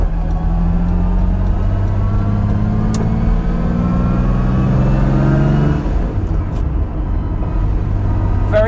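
A Lamborghini Miura with a 3.9-litre V12 mounted right behind the cabin, heard from inside while driving: a loud, steady, mechanical engine drone that climbs in pitch, then drops back to a lower, even hum, with no voices.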